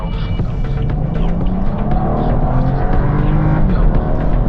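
BMW 4 Series F32 coupe engine in Sport Plus mode, pulling away from an intersection with a loud, steady throbbing drone that rises gradually as it accelerates, heard close from inside the car.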